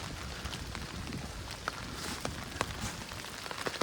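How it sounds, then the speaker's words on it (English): Steady winter rain pattering on open, flat land outdoors, a soft continuous hiss sprinkled with distinct drops and light taps, fairly faint and without talk. "Lovely day out in the winter's rain."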